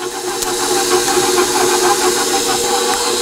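A stand mixer runs on slow speed, folding two cracked eggs and vanilla extract into chocolate chip cookie dough, giving a steady, close whirring hum with a faint hiss and no pauses.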